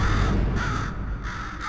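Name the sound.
crow cawing in the video game Portal 2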